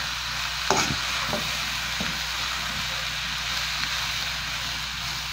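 Leftover rice stirred in a hot pan, a few soft scraping strokes of the spoon over a steady, continuous sizzle.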